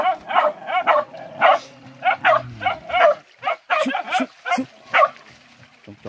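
Pig hunting dogs bark in a rapid, loud series of close barks and yips, with a low human voice murmuring underneath partway through.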